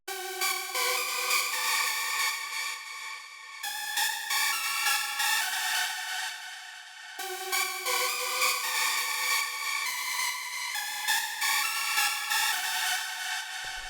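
A bright, bouncy synth lead plays a repeating melodic pattern in bursts, steady and loud with no voices.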